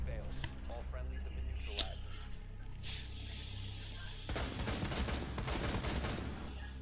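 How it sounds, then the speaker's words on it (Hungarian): Bursts of gunfire in Rainbow Six Siege, first a few scattered shots, then a dense rapid volley in the second half, heard under ongoing game ambience with players talking over it. "Teljesen máshonnan hallottam a lövöldözését."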